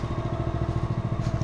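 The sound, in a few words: Polaris Ranger Trail Boss engine running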